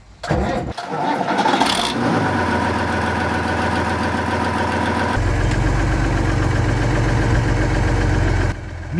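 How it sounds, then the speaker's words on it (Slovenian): A 1935 Renault TN4F bus engine cranks and catches, then settles into a steady, loud idle with a deep low rumble that carries on alone to the end. "takoj pognal motor"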